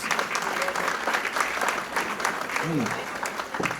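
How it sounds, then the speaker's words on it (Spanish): Applause from an audience at a book presentation in a library in Hialeah, dense and steady for several seconds, with a voice briefly heard over the clapping near the end. "Esos aplausos son para Silvia, no para mí"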